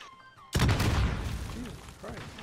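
Gunfire in Call of Duty Modern Warfare, a sudden loud close blast and burst of shots that decays into rumbling, with voices speaking faintly over it.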